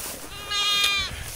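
A goat on a farm lets out a single clear, wavering bleat of about half a second, close and fairly loud, over faint background noise.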